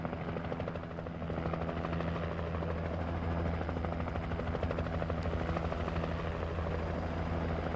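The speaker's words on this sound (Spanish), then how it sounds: "Es que está ahí el helicóptero y suena muchísimo." Steady, loud helicopter rotor drone in the video game Alan Wake, with a rapid rhythmic thumping throughout, continuous and close, with no talking.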